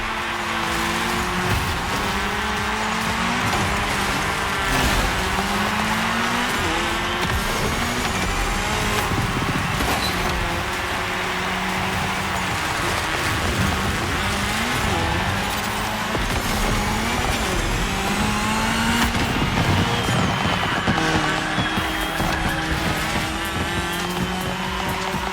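Race cars roaring through a cross-terrain race mixing racing disciplines in The Crew Motorfest, engines loud and continuous with shifting pitch, tire squeals and passing cars, alone without voices.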